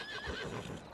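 A horse in a roleplay video game snorts and whinnies softly in one brief burst, with a faint hoof shuffle, heard close and moderately quiet.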